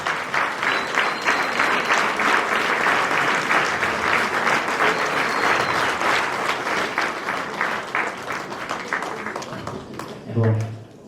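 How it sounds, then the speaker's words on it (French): A crowd claps steadily for a guest at a village New Year's greetings ceremony in Angresse, with faint talk underneath; the applause thins near the end, where a brief low voice cuts in. "applaudissez-la"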